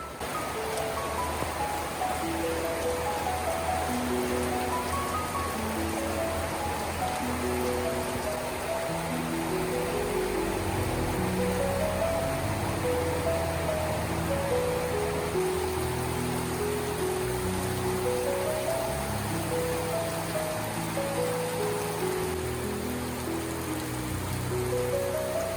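Steady rain falls on a rainy day, a constant close hiss that runs the whole time beneath louder melodic background music.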